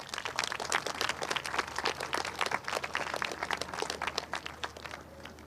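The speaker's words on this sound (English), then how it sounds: "please show our appreciation for her with a kind round of applause" Audience at a high school graduation claps in a dense, continuous patter for an absent honoree, the applause holding fairly steady and then thinning near the end, with no voices on top.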